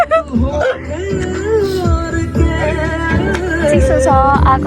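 Dogs barking in the cold evening around a lodge in Bhujung, with sharp yelping barks rising through a steady bed of sentimental music and some voices, fairly loud and continuous.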